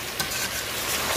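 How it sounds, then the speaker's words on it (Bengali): Chicken pieces being sautéed with spices and cumin seeds in hot oil in a pan, giving a steady, close sizzle with faint stirring scrapes throughout the short stretch. "এবারে মাংস, খুব ভালো করে মশলার সঙ্গে আর একটু সময় নিয়ে কষিয়ে নেব।"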